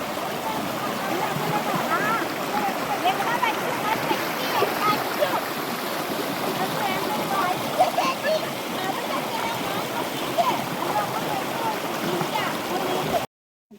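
Steady rushing and splashing river water runs throughout, close and constant, with faint voices under it before cutting off abruptly at the end.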